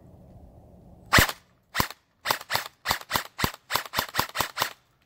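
A CSI XR5 airsoft pistol, fed from a JG Star magazine, fires eleven sharp single shots, the first loud, then a steady, fairly quick semi-automatic rhythm of crisp snaps with no talking.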